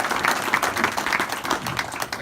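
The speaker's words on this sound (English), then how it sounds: "A little round of applause for them." Steady audience applause from a crowd at a police officers' awards dinner in Philadelphia, a dense continuous patter of many hands at moderate loudness throughout.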